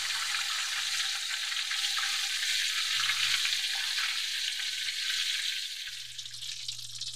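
Chicken backbone frying in a pan, a steady loud crackling sizzle of hot oil throughout, with a low hum coming and going beneath it.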